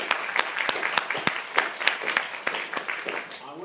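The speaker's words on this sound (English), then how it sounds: "I wouldn't clap in advance." A university audience at Sussex claps to welcome a returning graduate speaker, a moderate patter of individual claps that holds steady for several seconds before softening.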